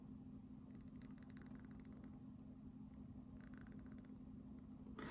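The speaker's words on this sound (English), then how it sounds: "it kind of sounds like a cat purring a little bit here" Very faint, steady low humming drone resembling a purr, with soft rattling textures fading in and out.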